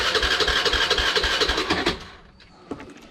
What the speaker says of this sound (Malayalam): ചോക്ക് ഇട്ടുകൊണ്ട് ഒന്ന് സ്റ്റാർട്ടാക്കി നോക്കാം.